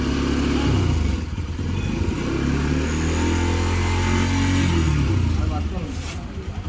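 Motorcycle engine left running, a steady low idling rumble that holds throughout at close range, with people talking over it.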